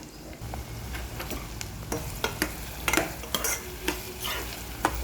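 Green chillies and onions fry in oil in a curry pan, a steady sizzle punctuated by frequent sharp scraping and stirring clicks, close and fairly loud with no voices.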